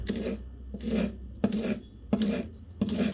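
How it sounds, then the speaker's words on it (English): A knife chops green onions on a cutting board in a small home kitchen, landing in four or five evenly spaced bursts of crisp, close strokes. "I'm also gonna chop up a couple of green onions"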